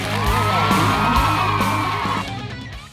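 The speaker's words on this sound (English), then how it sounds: "can we get a round of applause for our special guests, my mother and my 95-year-old grandmother?" A live crowd whoops, yells and cheers loudly and without a break, welcoming special guests, a mother and a 95-year-old grandmother, with the roar easing slightly near the end.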